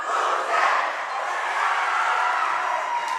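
A girls' high school basketball crowd cheers and roars loudly and steadily in an indoor gym, a continuous wash of voices with no pause.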